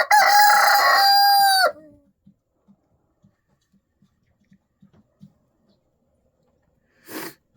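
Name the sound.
rooster crowing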